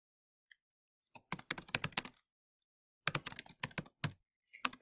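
Bursts of typing on a computer keyboard, close and crisp, with quick clusters of keystrokes separated by short pauses and a few isolated taps near the end.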